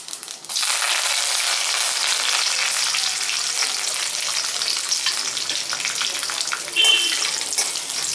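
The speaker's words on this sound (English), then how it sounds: "You can hear this splattering sound." Curry leaves splatter and crackle in hot oil while frying for a brinjal curry, a loud, continuous close sizzle that starts suddenly and carries on without a break.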